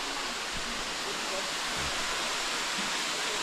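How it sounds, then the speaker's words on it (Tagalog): A small stream of water flowing down from above over rocks makes a steady, broadband rushing hiss that continues throughout at moderate volume. "Yung tubig dyan yung galing sa itaas. Parang siguro yan, sapa na maliit"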